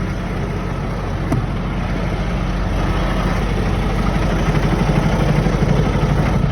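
A truck engine idles close by with a steady, low, even drone throughout, with no voices over it.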